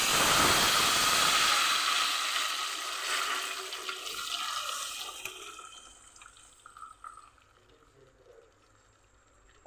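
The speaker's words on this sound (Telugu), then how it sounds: "చింతపండు రసం అయితే ఇలా వేసుకోవాలన్నమాట" Tamarind juice poured into a hot frying pan with fried chillies bursts into a loud, close hissing sizzle that slowly fades into softer, crackling pops and bubbling over several seconds, with no talking.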